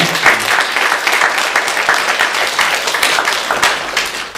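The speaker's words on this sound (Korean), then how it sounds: "박수로 환영하겠습니다." Church congregation applauding during a Sunday worship service to welcome a guest visiting from Korea; dense, steady clapping from many hands fills the room for several seconds at a loud, even level.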